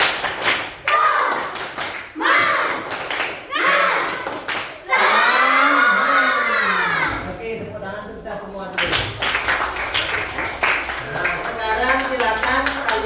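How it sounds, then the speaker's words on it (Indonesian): Schoolchildren in a classroom perform the rhythmic tepuk semangat clap, bursts of patterned clapping alternating with their chanting voices, then a teacher speaks. "Pak Guru tes semangatnya. Tepuk semangat."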